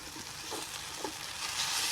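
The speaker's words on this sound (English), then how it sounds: "So we'll get the garlic all sauteed in here nice and good." A large amount of chopped garlic sautés in a pot for beef birria, giving a steady close sizzle with a few soft stirring scrapes and no voices.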